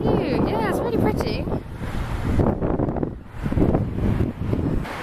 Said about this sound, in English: It's a bit windy. Sorry if it's windy.